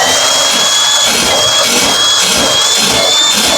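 Drain cable machine with a 35-foot cable spinning inside a greasy, lint-clogged laundry sink drain: a loud, close, steady motor whine with a rhythmic pulsing grind, no talking.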